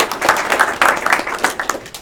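An audience breaks into brief applause, a burst of many hands clapping in a room, lively and fairly close.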